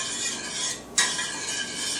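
Butter melts in a hot pan for Brussels sprouts, giving a soft, steady sizzle and hiss close by, with a brief scrape partway through and no talking.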